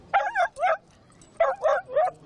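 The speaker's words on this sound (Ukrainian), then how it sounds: "Він буде гавкати у напрямі виходу запаху." Rescue dog barking on command at a rescuers' day demonstration on Khreshchatyk, Kyiv: two pairs of sharp, close barks with a short pause between, loud and clear over quiet background.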